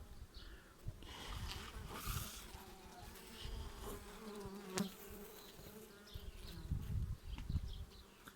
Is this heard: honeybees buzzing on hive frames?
yes